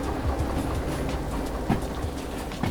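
Running train in the video game Derail Valley, a continuous rumbling clatter with uneven knocks and rattles, close and fairly loud, with no talk.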